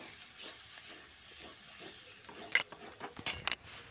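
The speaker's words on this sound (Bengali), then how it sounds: "তো জিরে গুঁড়ো দেওয়ার পর মশলাটা আমি ভালো করে কষিয়ে নেব যতক্ষণ না মশলাতে তেল ছেড়ে আসছে।" Spice paste with cumin powder frying in oil for a chicken curry, a soft steady sizzle under a few sharp scraping and clinking stirs from a spatula against the pan near the end, with no talking.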